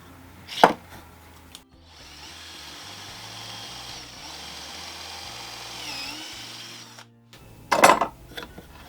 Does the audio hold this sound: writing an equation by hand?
no